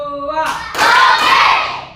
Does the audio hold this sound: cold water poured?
no